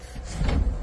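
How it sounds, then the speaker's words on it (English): Motorized automatic door opening onto an accessible cruise ship balcony, a short rising whir and slide with a low rumble, close and fairly loud, no voices. "The door opens."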